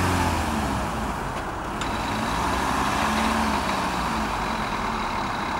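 A SsangYong Kyron sits on compacted snow, its engine giving a steady, fairly loud, close rumble with a faint rising note as it tries to pull away, and no voices are heard.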